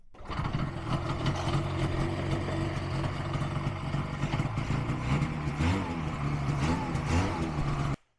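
A snowmobile engine fires up and settles into a steady, loud running drone close by, holding constant for about eight seconds before cutting off abruptly, with no voices.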